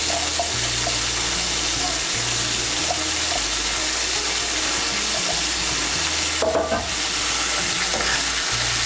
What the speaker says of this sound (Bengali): এই দেখুন ডাঁটাগুলো দেওয়ার পর ডাঁটাগুলোকে একটু ভেজে নিয়েছি।